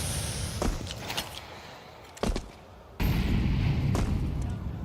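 Gunfire from an AK-47 in the Counter-Strike video game: a few sharp, booming shots and impacts scattered irregularly over steady in-game background noise, with a louder burst near the end.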